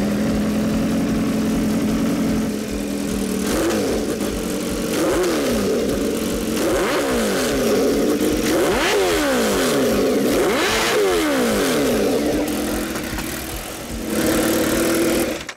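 A loud racing motorcycle engine fires up and revs repeatedly close by, rising and falling blips over a rough idle, very loud and raw, with no talk over it.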